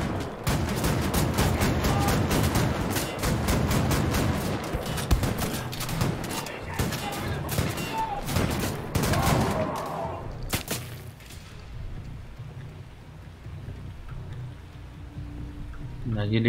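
Dense, rapid bursts of video game gunfire crackle and boom for about ten seconds in Wolfenstein: The New Order, then thin out into scattered shots and quieter background noise.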